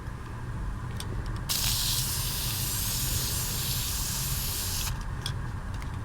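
A spray paint can hisses onto Warhammer 40k Death Company miniatures, one loud continuous burst of about three and a half seconds between quieter moments, close up and alone.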